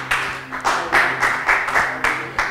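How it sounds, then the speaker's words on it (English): A church congregation claps in a rhythmic clap offering to the Lord during a sermon, with steady repeated bursts of hand claps under a low tone. "Give the Lord a clap offering"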